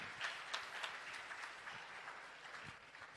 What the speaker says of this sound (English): So a big clapping for Bsss ISS.